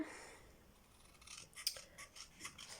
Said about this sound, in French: donc je découpe